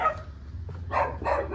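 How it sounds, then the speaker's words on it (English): Dogs barking in a street of Areguá, Paraguay, a few short bursts at moderate distance, the last two close together and fairly loud. "everybody's got dogs"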